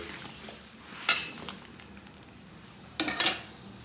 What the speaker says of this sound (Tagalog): Then medyo haluin natin bago natin lagay yung repolyo.